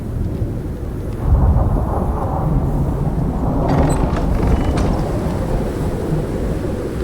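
A thunderstorm in a survival video game rumbles steadily with dense rain and wind noise, a continuous roar that swells slightly partway through, with no speech.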